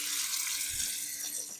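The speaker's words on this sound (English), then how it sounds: "It's got a sensor on it to turn off and on the water." A new sensor-operated water tap runs steadily into a sink as hands are washed, a continuous close splashing flow with no talking.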